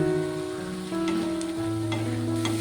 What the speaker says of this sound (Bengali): সব কিছু দিয়ে মশলাটাকে সুন্দর করে কষিয়ে নেব